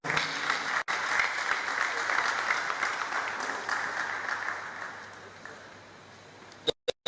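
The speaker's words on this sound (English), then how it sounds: "let's give a round of applause" An audience claps loudly and steadily at a Pest Control Association of Nigeria panel session, the dense applause fading gradually before a few sharp knocks at the end.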